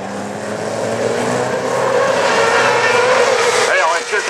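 Racing karts roar steadily around the track during Kart Open qualifying heats at Mauron in 2014, a loud continuous engine drone with a commentator talking over it throughout.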